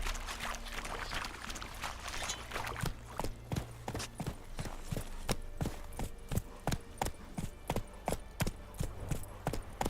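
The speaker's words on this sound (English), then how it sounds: "Whoa there, Roach." Horse hooves clip-clop on the ground in The Witcher 3 video game, a run of sharp, evenly paced knocks that grows steadier and more distinct over a quiet, murky ambient background, fairly close and with no voices.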